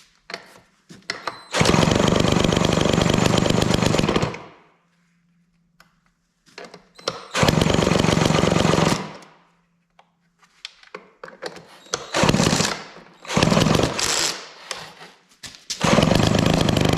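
Vintage Homelite Zip chainsaw with a carburetor being adjusted, firing in loud full-throttle bursts of several seconds that cut out, then quicker revs and sputters between pauses.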